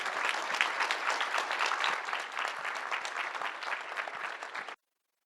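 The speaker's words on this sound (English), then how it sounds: "big round of applause for these guys" A conference audience applauds the speakers at the close of a panel discussion on moving to subscriptions, a dense, steady clapping that fills the room for nearly five seconds and then stops abruptly.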